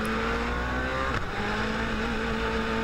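A race car engine runs steadily at close range as the car pulls off down the pit lane for an install lap, a sustained loud hum with a brief shift in pitch midway.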